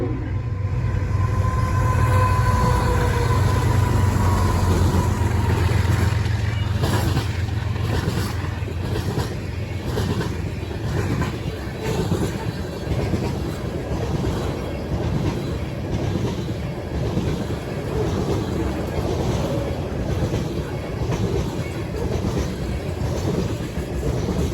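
CSX B741 freight train passing through Berea, Ohio: a horn blast at the start, then a long loud rumble with rhythmic clickety-clack of wheels over rail joints as the cars roll steadily by.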